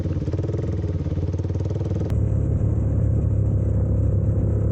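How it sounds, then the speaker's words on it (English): Motorcycle in deep sand: the engine pulses in a steady low chug, then a sharp click at about two seconds and it settles into a louder, rougher running rumble, close up with no talking. "I am having quite a bit of trouble just getting the bike started"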